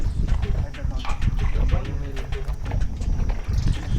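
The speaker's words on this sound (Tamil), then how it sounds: "என்னடா குதிரை முக்குது" A horse clops its hooves with a snort mixed in, the steps dense and close amid a busy wash of background noise and voices.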